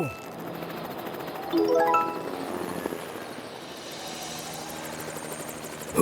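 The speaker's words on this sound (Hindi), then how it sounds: "अब एक हेलीकॉप्टर में बदल जाओ।" A cartoon helicopter sound effect from a children's animated show, with a quick rising whistle of stacked tones and then a steady whirring hum that runs to the end.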